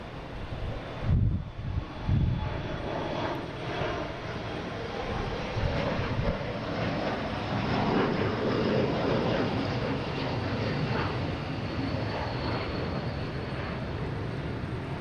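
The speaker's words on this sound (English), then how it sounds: "There's an American 777. I'll be heading to London Heathrow." An American Airlines Boeing 777 bound for London Heathrow from Boston Logan makes a sustained, rumbling jet roar at moderate distance, with a few gusty wind bumps on the microphone early on.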